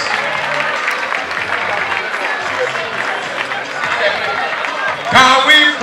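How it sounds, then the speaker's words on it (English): Parents at a Lagos school event applaud students after a race, a dense, steady crowd clapping mixed with chatter and a voice talking over it, loud and continuous. "Parents, let's applaud the students."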